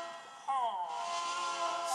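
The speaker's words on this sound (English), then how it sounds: "And this is the sound of the Emo Goose." A plaintive, honking cry from the Emo Goose character in the Crossy Road video game rises and bends downward once, heard over a steady rainy hiss of game ambience.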